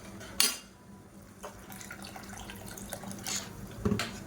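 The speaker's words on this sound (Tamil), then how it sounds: "இன்னும் கொஞ்சம் தண்ணி சேர்த்துக்கலாம்." Water is poured into a pan of kuzhambu, a tamarind curry, in a home kitchen: a soft, quiet splash and trickle with a few light clinks of utensils against the pan.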